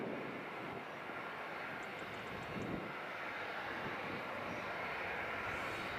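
Aircraft engines spinning up at Edinburgh airport, a steady broadband roar with a faint high whine, constant and moderately distant throughout.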